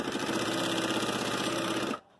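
A sewing machine stitches a fabric bag with a flap, running in a fast, steady mechanical whir close by before stopping abruptly near the end, with no talking.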